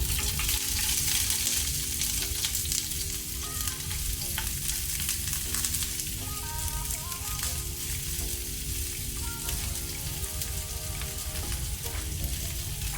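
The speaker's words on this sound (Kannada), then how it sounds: "ಎಣ್ಣೆ ಬಿಸಿಯಾದ ನಂತರ 2 ಮೀಡಿಯಂ ಸೈಜ್ ಈರುಳ್ಳಿ ಹಾಕ್ತೇನೆ" Two medium onions frying in hot cooking oil over a medium flame for an onion chana gravy, a dense continuous sizzle close up, with faint tonal sounds running underneath and no speech.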